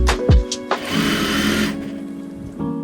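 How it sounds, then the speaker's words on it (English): An industrial sewing machine stitching dress bodice and facing pieces together along a side seam: a few close mechanical clicks and knocks, then a steady, rapid whirring run of stitching lasting under a second, with a brief restart at the end. "although I am sewing on an industrial machine, your domestic machine is absolutely perfect for this kind of project"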